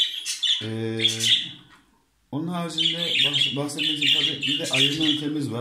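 Caged budgerigars chirping, bright bursts of twittering at the start and again through the second half, mixed under a person speaking.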